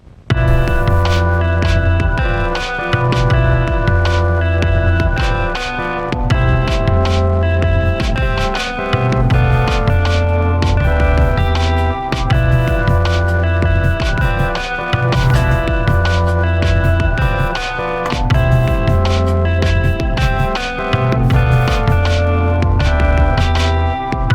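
An eight-bar electronic music loop with a pulsing bass pattern and layered synth tones repeats steadily in a regular rhythm throughout, loud and without voices.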